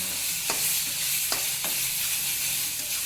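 A spoon scrapes through a sizzling pan of green pea kachori filling a few times, short strokes over a constant hiss of frying, with no voices.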